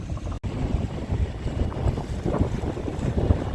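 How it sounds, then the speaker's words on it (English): Strong southeast wind buffets the microphone beside the choppy Danube, a loud, continuous low rumbling roar with one brief dropout early on. "Pretty choppy on the old Danube today. Strong winds from the southeast."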